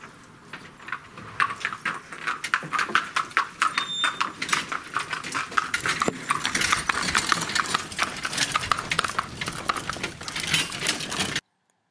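A pony in harness walks calmly away after being put to, its hooves clip-clopping in a steady, close, even rhythm that stops abruptly at the end.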